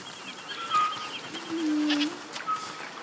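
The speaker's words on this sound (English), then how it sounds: "What's over there? Goats!" Goats bleat in A Plague Tale: Requiem, a few short, moderately near cries over a soft village ambience, with faint bird-like chirps between them.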